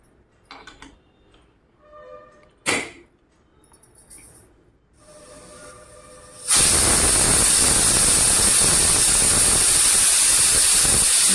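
A pressure cooker on a kitchen stove lets out steam after its whistles: a few faint clicks and knocks, then a sudden loud, steady hiss that keeps going for several seconds.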